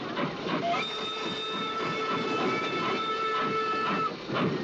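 A train on the Trans-Siberian Railroad in a winter-wasteland horror film rumbles steadily with soft rhythmic rail clatter, a faint whistle-like tone drifting above the moderate, continuous noise.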